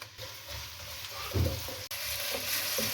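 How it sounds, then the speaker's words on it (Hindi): Sliced onion frying in hot oil in a wok, a steady soft sizzle with a brief stirring clatter partway through, heard alone without voices. "जब ऑयल हल्का सा गर्म हो तो इसमें एक बड़ा प्याज जिसकी मैंने स्लाइस में कटिंग की है वो डाल दें और प्याज को हल्का सा ब्राउन कर लें।"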